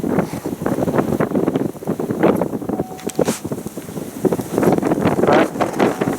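Steady, gusting Antarctic wind buffets the microphone throughout, a loud, rough rumble that swells and fades in waves with no voices.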